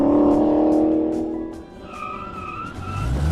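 A 2016 Dodge Challenger Scat Pack launches hard in launch mode, its engine roaring loudly up close and then dropping away, followed by thinner, higher mechanical tones.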